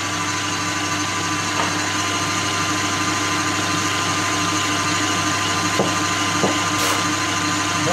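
An electric hand mixer whips cream for a white chocolate Yule log, a steady motor whir running continuously at close range with a slight rise as it speeds up, with no talk.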